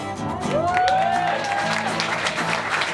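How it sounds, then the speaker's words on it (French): Applause and cheers from an audience greet a singer at an Italian-themed concert, overlapping with a sustained sung or whooped note and some crowd noise, a fairly full room. "Je vous demande d'applaudir Francesca."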